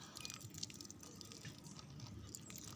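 Quiet water trickles and drips close by, soft splashing and dribbling over the soil of celery plants, with no voices.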